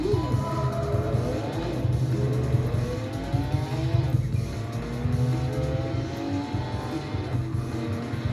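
A race car in a retro PC racing game on a 2002 Athlon XP machine, the engine revving up and down in repeated rising sweeps with tire squeal, loud and continuous, with faint talk underneath.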